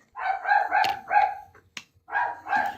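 A dog barks in a series of several loud, close, sharp barks with brief gaps, in the background of a live online debate stream.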